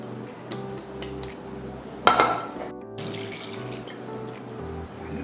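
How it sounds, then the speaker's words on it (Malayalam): A second batch of milk is poured into a pan for reducing, while making Knanaya-style Indriyappam. It gives a continuous close pouring and splashing sound, with a sharp louder splash midway. "സെക്കൻഡ് ബാച്ച് നമ്മൾ കുറുക്കുന്ന ചട്ടിയിലേക്ക് ഒഴിക്കുകയാണ് പാല് കാച്ചുന്ന ചട്ടിയിലേക്ക്"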